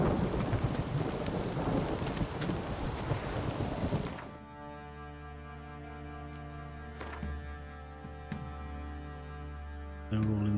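Heavy rain and a thunderstorm in The Witcher 3 on PC: a dense rolling roar of rain and thunder for about four seconds, then it cuts to a quieter steady hum with a few faint ticks and a soft thud near the end.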